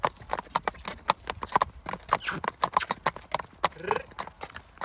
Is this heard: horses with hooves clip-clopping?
yes